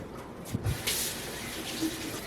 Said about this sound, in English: And rinse off my veggies.